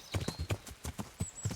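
Horse hooves in the video game Kingdom Come clip-clop in a quick, steady trot, each hoofbeat sharp and close, with a faint whistling tone in the background.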